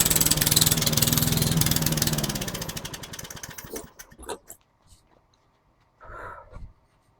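A lawn mower fitted with a swapped engine runs loud and steady up close, then winds down and cuts out after about four seconds, leaving a few scattered clanks and a short mechanical burst.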